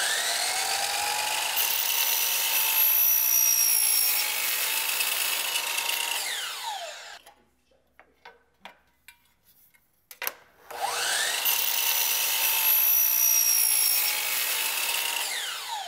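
Miter saw whining steadily as it cuts through wood for an outdoor stair railing, twice, separated by a quiet stretch of clicks and handling noises.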